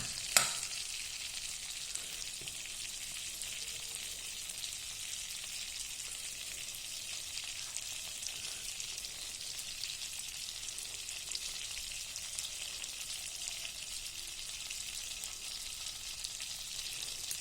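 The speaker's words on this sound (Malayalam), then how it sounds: "കരിയാണ്ട് റോസ്റ്റ് ചെയ്യണം" Maida flour roasting in a pan makes a soft, continuous sizzle that stays even and fairly faint throughout, with no talking.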